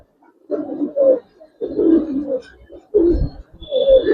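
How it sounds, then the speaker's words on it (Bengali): Domestic pigeons kept at home, a coloured Garrah musaldom pigeon among them, coo in four distinct rounds of low, throaty bursts, close and fairly loud, with short pauses between them and no talking. "এটা হচ্ছে আমার ঘরের কবুতর ভাই"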